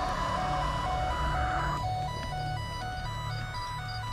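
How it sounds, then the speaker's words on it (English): A repeating electronic alarm in the Specter 2 ghost-hunting game beeps in a steady pulsing pattern, sustained over a dense, noisy background throughout. "turn the alarm off"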